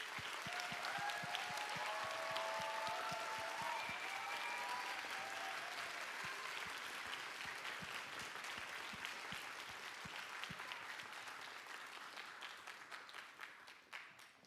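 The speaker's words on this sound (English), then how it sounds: "a huge round of applause" Sustained applause from a parents-and-students audience at an elementary school spring concert, dense steady clapping that fills the hall and slowly tapers toward the end.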